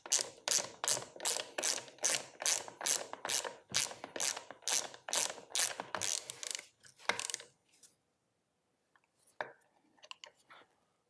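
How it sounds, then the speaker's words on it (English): A series of about fifteen rapid, evenly spaced ratchet clicks as a 7/8 deep well socket tightens the crank pin on a Rhino Pro-Series gas post driver, close and loud, then trailing off into a few scattered clicks and handling noises. "Using your 7/8 deep well socket and a hardwood dowel,"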